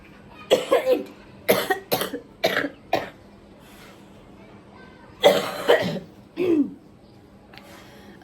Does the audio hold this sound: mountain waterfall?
no